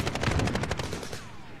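A BAR rifle fires a rapid burst of automatic gunfire in a first-person shooter video game, loud and close, with its echo trailing off at the end.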